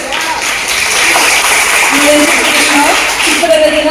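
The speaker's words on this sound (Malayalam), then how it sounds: "കുട്ടികൾ നല്ലൊരു കയ്യടി കൊടുക്കാൻ വിജയികൾക്ക്" Children at a school awards ceremony at St Joseph's HS, Angamaly, applauding the winners: a steady wash of crowd clapping, with an amplified voice speaking over it.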